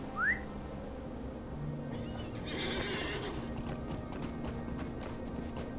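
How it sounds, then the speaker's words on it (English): Horse in the Lord of the Rings Online game gives a bright whinny at the start, followed by a steady clip-clop of hooves under outdoor game ambience with wind and faint whistling, moderately loud and continuous. "Alright, let's get on our horse."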